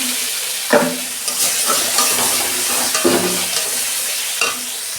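Chilli powder masala sautéed in a pan for an egg dish, with a steady sizzle and several sharp spatula scrapes against the pan at irregular intervals, close and fairly loud.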